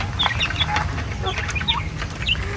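Young backyard chickens in a new pen clucking and peeping continuously, several birds close by over a low steady background hum.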